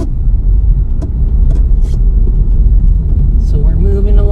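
Manual-transmission car driving along in second gear through a parking lot, a steady loud engine and road rumble running throughout with a few faint knocks and a brief tonal rise near the end.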